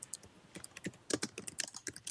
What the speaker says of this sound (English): I can hear someone typing.